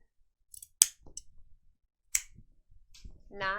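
Sharp scissors snip through tote bag fabric in a few crisp, close cuts with pauses between them, and a voice begins at the very end.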